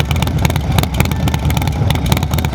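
A Harley-Davidson Softail with a 131 engine, SP Concept exhaust and Cyclorama 483 cam idles loud and close, its deep, lumpy, uneven rhythm pulsing steadily throughout with no talk.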